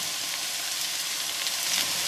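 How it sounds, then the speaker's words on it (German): Button mushrooms hit hot oil in a pan and fry with a bright, continuous crackling sizzle that stays close and even throughout, with no voices over it. "Und jetzt geben wir unsere Champignons hinzu"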